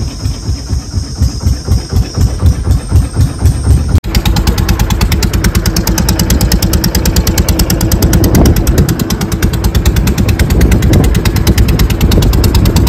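A motorboat engine runs loud and close, chugging in a fast, even rhythm that hardly changes throughout, with a sharp jolt partway through and no voices.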